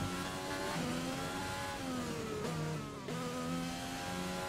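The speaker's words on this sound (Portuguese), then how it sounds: "É o motor que tá desgastado aqui" Worn McLaren Formula 1 engine in the F1 2020 racing game, a loud continuous whining drone with shifting revs and pitch dips, steady throughout with no talk.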